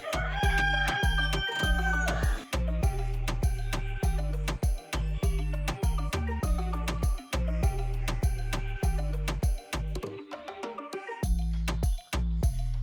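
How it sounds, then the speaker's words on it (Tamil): Chickens and ducks at a pet park in Chennai, with white and black hens and white and black ducks, give repeated rooster crows and clucking at close range, a busy rhythmic stream of calls with no talking. "வெள்ளை கோழி, வாத்து, கருப்பு வாத்து, வெள்ளை வாத்து, கோழியிலே கருப்பு கோழி"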